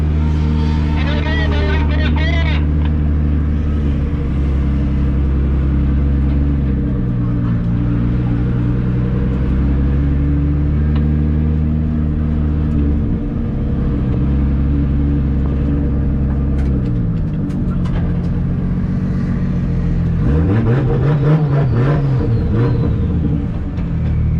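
A drift car's engine drones and revs at a drift competition, rising and falling in long sustained pitches with a surging rev near the end; loud and close, with a voice heard over it at moments.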